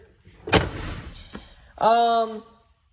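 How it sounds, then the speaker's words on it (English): A 1990 Chevy K1500 four-wheel-drive pickup's door is shut with a single solid thump, followed by a brief ringing, tonal squeal. The sound is close and clear, with no talking. "We'll shut the door here."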